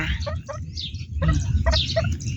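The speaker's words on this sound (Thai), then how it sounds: "พ่อไก่กับแม่ไก่ คู่หนึ่งจ้า" Chickens cluck and a fighting-breed rooster makes short calls close by, with a person talking over the birds.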